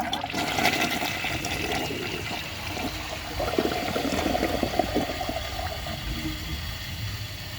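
Vortens Vienna toilet flushing on a third attempt, a loud sustained rush and gurgle of water with mechanical clicks, steady throughout with no talking.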